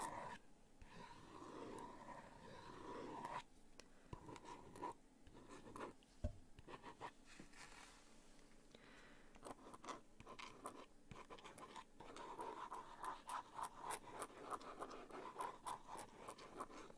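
A pen scratches softly across paper, writing a few words and small heart doodles in quiet, close-up strokes with irregular rhythm and faint rustles between them.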